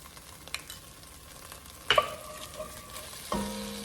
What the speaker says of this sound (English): start sauteing the onions